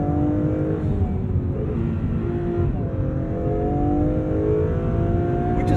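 An Acura NSX Type S hybrid sports car accelerates out of a corner, its engine note loud and continuous with a rising tone that climbs steadily as it pulls hard, recorded close from inside the car with no talking.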